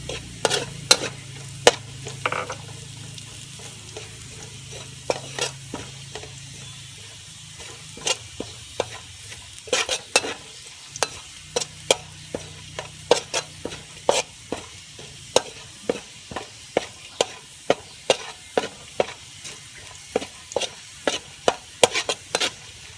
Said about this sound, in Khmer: យើងពងខ្ទឹមក្រហមខ្ទឹមសរបស់យើងឲ្យឡើងក្រហមបងប្អូនឲ្យវាឡើងឈ្ងុយ